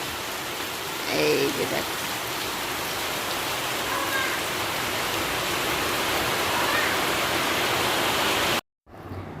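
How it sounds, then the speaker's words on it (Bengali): Heavy rain pours down outside, a loud, steady wash of noise that fills the whole stretch while someone speaks briefly over it, cutting off abruptly near the end. "এই যে দেখো কি পরিমাণে বৃষ্টি শুরু হয়ে গেছে, মুষলধারে"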